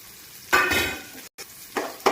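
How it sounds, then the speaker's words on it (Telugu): Egg fried rice frying in a pan on low flame, heard as short bursts of sizzling and stirring, close and separated by brief pauses, with no one talking. "లో ఫ్లేమ్ మీద ఇలా లో ఫ్లేమ్ మీద ద్వారా వేయించుకోవాలి. Egg fried rice"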